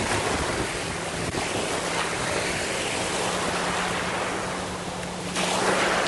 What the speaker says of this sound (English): These waves are busting.